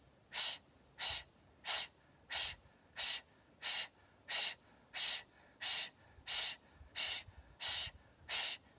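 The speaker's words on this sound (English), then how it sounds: "Inhale to prepare. And then begin exhaling. Keep going." Slow, deep exhalations during a guided yoga breathing exercise, about a dozen evenly spaced breathy pushes of air, close and clear in a quiet setting with no talking.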